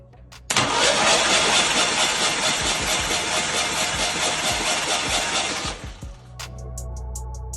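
A faulty engine cranks and catches, running loud and rough with uneven, stumbling beats for several seconds before it sputters and dies.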